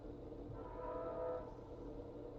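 A train passing with its horn sounding, a sustained low rumble and drawn-out horn tone rising and fading, heard faintly at a distance.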